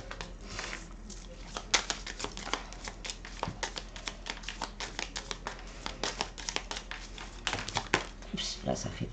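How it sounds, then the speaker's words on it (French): Tarot cards being shuffled and drawn by hand, a busy run of close papery flicks, taps and riffles with uneven rhythm, mixed with a soft steady hum. "Je vais commencer par tirer quelques cartes, celles qui sautent"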